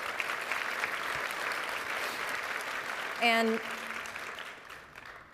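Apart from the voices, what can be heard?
audience applause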